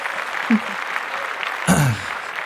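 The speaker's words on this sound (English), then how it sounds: "Here's some claps." A brief smattering of applause from a small group on a live-streamed show, a couple of short bursts of clapping over faint background voices.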